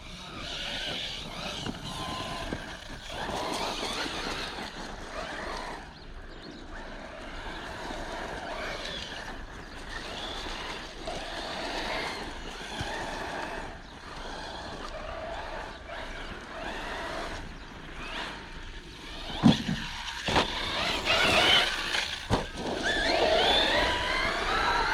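A Team Corally Jambo 6S radio-controlled car runs at full throttle, a steady high whine from the motor sustained throughout, with louder bursts and clatter near the end.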